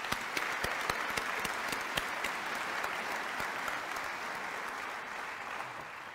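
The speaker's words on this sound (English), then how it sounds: "I think they deserve a huge round of applause" A crowd at a high school scholarship night in North Andover, Massachusetts applauds steadily, with sharp individual claps standing out over a dense, sustained wash of clapping that softens slightly toward the end.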